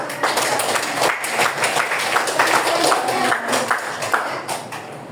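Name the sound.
applause for a student's presentation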